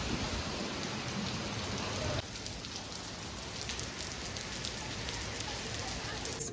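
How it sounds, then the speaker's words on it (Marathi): Steady, dense rain pours down outdoors, a loud continuous hiss that drops slightly in level partway through, with distant thunder rumbling faintly underneath. "पाऊस पडायला चालू झाले इथं. बाबा बाबा ना विजा गडायला लागलेत."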